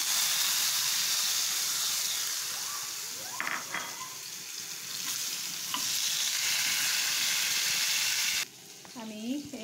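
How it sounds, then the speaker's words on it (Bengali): Potatoes fry in oil in a karahi on a stove, a steady close sizzle and hiss stirred now and then with scraping, and a faint voice briefly surfaces near the end. "আমি প্রথমত আলুগুলা ভেজে নেব।"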